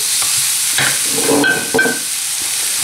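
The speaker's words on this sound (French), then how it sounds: "mélanger avec ma spatule en bois pour pouvoir réduire la viande hachée en petits morceaux" A wooden spatula stirs and breaks up minced meat in a hot pan for an Asian-style dish, with repeated scraping strokes over a steady, close, loud sizzling hiss.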